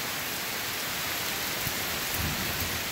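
Heavy rain pours down steadily throughout, with a low thunder rumble building faintly beneath it toward the end; no one speaks.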